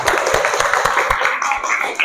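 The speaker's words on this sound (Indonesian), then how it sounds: "tepuk tangan buat kelompok 3" Classroom applause for a student group presentation at a university, a dense patter of many hands clapping close by with a few sharper individual claps, steady for about two seconds.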